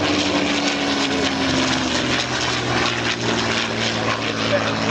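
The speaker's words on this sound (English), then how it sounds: "This aeroplane conceived and flew within 9 months." A North American P-51D Mustang, originally Allison-engined, drones steadily at an airshow, a loud continuous propeller-engine roar with a faint voice over it.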